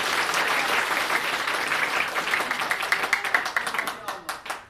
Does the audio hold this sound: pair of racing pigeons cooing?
no